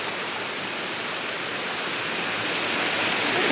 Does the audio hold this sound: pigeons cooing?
no